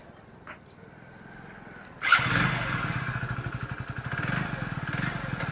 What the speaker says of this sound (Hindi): अब मैं आपको इंजन की वो साउंड सुनाता हूँ जो पहले साउंड आ रही थी।